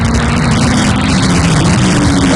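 Suzuki 400cc racing motorcycle engines roar continuously at a race meet, a loud steady engine drone with no pauses and no talk over it.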